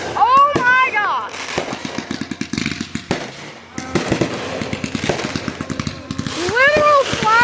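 Loud bursts of video game gunfire and flashbang blasts, sharp rapid cracks in clustered volleys, while excited voices shout and talk over the action throughout.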